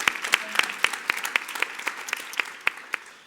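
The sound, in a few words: round of applause after a presentation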